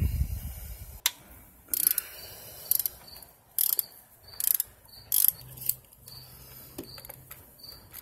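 A ratchet works on a valve cover bolt of a Jeep Wrangler JK 3.8L in bursts of rapid metallic clicking, several separate strokes close up, separated by short quiet gaps.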